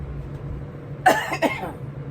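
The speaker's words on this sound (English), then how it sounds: "I still have this cough left over from the flu" Two short coughs about a third of a second apart, close to the mic, over a low steady background hum.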